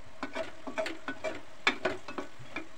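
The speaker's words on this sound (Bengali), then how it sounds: "আমরা এখন বুন্দিয়াগুলো দিয়ে দিলাম শিরার মধ্যে।" Boondi being stirred into sugar syrup in a pan, a series of close wet splashes and soft sizzling bursts in an uneven rhythm, with no voices.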